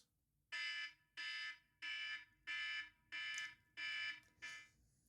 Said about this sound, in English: An alarm will go off after 5 minutes, and it will sound like this.